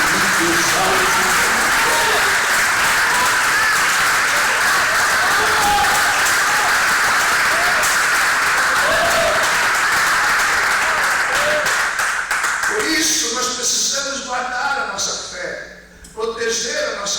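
A church congregation applauds loudly during a sermon, with a continuous wash of clapping and crowd voices. A voice speaks and calls out over it, and the clapping thins out near the end.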